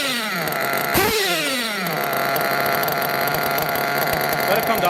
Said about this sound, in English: Let it come down to an idle.